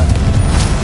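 A Confringo blasting spell explodes in Hogwarts Legacy, a single loud, booming burst that fills the whole moment without any talk over it.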